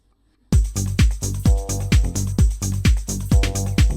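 A punchy synth bass with no arpeggiator plays a steady pulse of sustained notes, each starting with a bright attack that sweeps downward, loud and alone after a brief silence.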